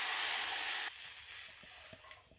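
Water hits a hot pan of mustard-seed tempering with turmeric, asafoetida and red chilli, giving a loud, bright sizzle and hiss for about a second that quickly drops to a quieter, settling simmer.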